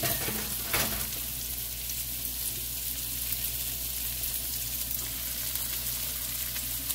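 Thick quarter-pound beef burger patties sizzle steadily in a hot pan, a dense continuous frying hiss at close range with a brief louder crackle early on and no talking.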